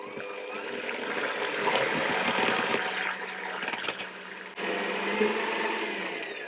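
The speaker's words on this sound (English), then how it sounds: "I may have whisked it slightly more than I intended" Cream being whisked for a pavlova topping, a steady whirring electric-mixer drone that runs continuously, briefly dips, then resumes at full strength, close and fairly loud with no talking.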